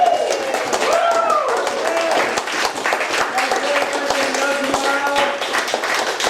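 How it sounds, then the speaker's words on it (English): A crowd at the No Tomorrow venue applauds after a live performance, with sustained, even clapping throughout and faint tonal sounds and voices mixed in underneath. "a round of applause for everyone here"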